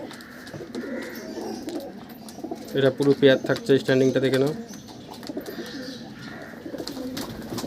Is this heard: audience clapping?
no